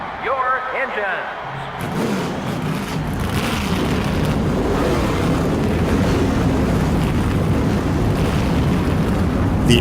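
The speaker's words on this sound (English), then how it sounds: "The engines have fired here at Pocono Raceway" NASCAR stock car engines fire up together at Pocono Raceway in the NASCAR Thunder 2003 video game, a broad, steady roar that swells after a short opening and holds loud to the end.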